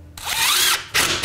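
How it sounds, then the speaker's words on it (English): A power drill drives screws into plywood on a bulkhead build, whirring in two loud bursts with a short pause between them and a brief start at the end, with no voices. "we're gonna be just screwing this wood to the bottom edge of the plywood, okay, with the screws"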